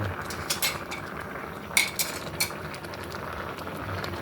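A utensil stirs a hot pot of rice soup with fish head and pickled bamboo shoots, giving scattered metallic clinks and scrapes over a low bubbling background, close by with no talk.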